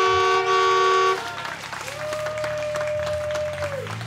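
The Rocky Brook Rocket train rolls out to a waiting crowd in Opelika, a loud horn blast opening before cheering and clapping take over, with a long whistle-like tone sounding through the crowd noise.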